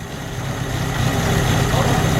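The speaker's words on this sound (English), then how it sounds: "Alright, it's idling right now." An Opel GT engine, running again after 24 years of sitting with about 32,000 miles on it, idles with a steady low rumble and a faint rhythmic pulse, close and loud, rising slightly in level over the short stretch.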